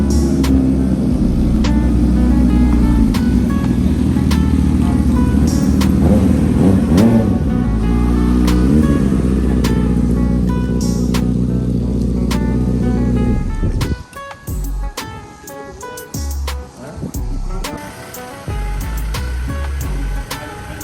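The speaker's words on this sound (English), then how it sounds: "2 bikes are rolling right now" Motorcycles lapping a racetrack at a track day, loud engines revving and droning close by for most of the stretch, then cutting away to quieter, choppier engine noise as bikes pass and fade.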